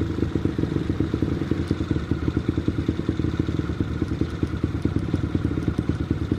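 Motorcycle engine fitted with a UMA Racing CDI held at 10,000 RPM, a loud, close, rapid pulsing drone with crackling clatter throughout, no voices.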